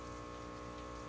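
Aquarium siphon pulling water and dirt from a fish tank, a continuous low gurgling suction with a steady watery hum, close and unbroken, no voices.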